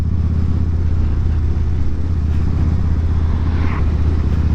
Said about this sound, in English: the exhaust on this thing is so loud,